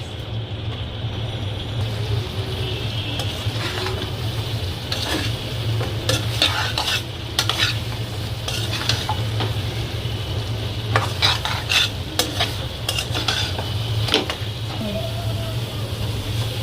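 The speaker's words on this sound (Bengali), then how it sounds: "এটা নাড়তে নাড়তে এভাবে চিনিটা এই গজাগুলোর গায়ে লেগে যাবে।" Fried gaja pastries are tossed with sugar in a pan, a long run of continuous stirring and rattling with a soft underlying sizzle and a low steady hum behind it.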